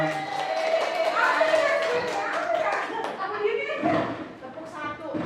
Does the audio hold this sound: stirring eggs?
no